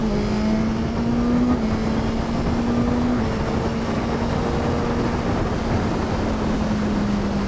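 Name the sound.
Suzuki GSX-S1000 motorcycle accelerating through the gears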